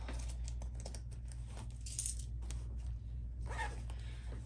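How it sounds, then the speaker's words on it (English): Cash envelopes are emptied with rustling and soft crinkling paper, while a few light metallic clinks of coins stand out at close range. A steady low hum sits beneath, and no one speaks. "let's go ahead and empty our envelopes"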